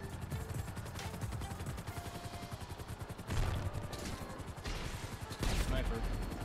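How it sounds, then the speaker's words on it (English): A minigun fires in GTA 5 Online PvP as a continuous, fast-rattling stream of shots. Louder thumps cut in at intervals, and a voice comes faintly through the din. "I stuck fucking using the minigun."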